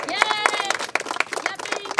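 Children clapping at an outdoor tree plantation drive, quick rapid claps in a bright burst mixed with voices talking and calling out over them.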